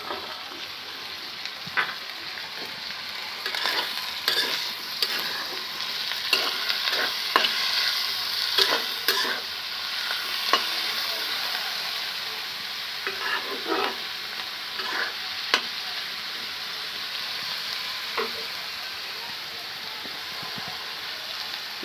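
Green chilies, garlic and onion fry and sizzle in a pan, a steady close hiss broken by repeated scraping stirs and clatters of a spoon against the pan, with no talking.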